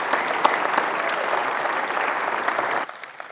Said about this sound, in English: let's just give him a round of applause for just having done that